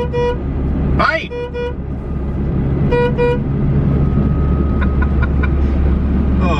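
A car horn honks in short toots from inside a moving vehicle, a brief blast followed by a couple of quick beeps over road rumble, with people talking.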